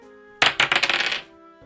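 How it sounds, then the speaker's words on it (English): A digital dice roll in the computer version of the OOF DAH board game: a quick rattle of about a dozen clicks that grows fainter over under a second, against a quiet background. "I roll the dice."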